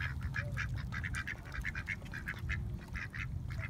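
Ducks at Lake Miramar quack in a steady run of short, bright calls while being fed, fairly close and loud over a constant low rumble of wind or water.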